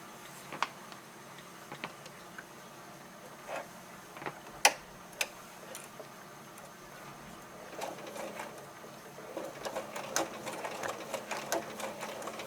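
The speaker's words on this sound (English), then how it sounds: "now using 1/4 of an inch seam allowance, we're going to stitch around the top" A sewing machine stitches around the top of a doll backpack for an 18-inch doll with a quarter-inch seam, giving faint scattered ticks that thicken into quicker, busier clicking toward the end.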